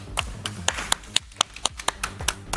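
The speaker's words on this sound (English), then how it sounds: "let's give her a big round of applause." Applause greets a volunteer called up during a live crypto trading event: a small group clapping in distinct, uneven bursts, fairly close and moderately loud, with individual hand claps standing out rather than a dense roar.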